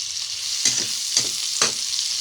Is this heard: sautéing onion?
yes